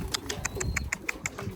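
Pigeons coo in a quick run of about ten soft, evenly spaced throaty pulses, close by and fairly quiet, with no voices.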